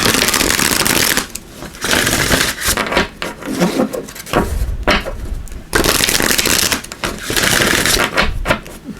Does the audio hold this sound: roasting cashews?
no